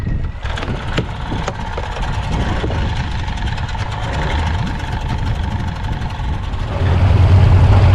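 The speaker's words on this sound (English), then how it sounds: "we're just gonna get her tied up here and get the engine running" A boat engine idles steadily while tied up before a dive trip, a continuous low mechanical rumble with light knocking that grows louder and rougher near the end as the revs rise.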